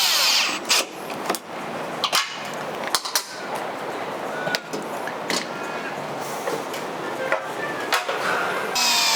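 A power drill drives stainless steel bolts while fitting an awning onto a roof rack base, giving short whirring bursts and clicks between pauses and handling noise, fairly close and loud.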